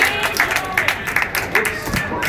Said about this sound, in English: let's clap our hand for Julia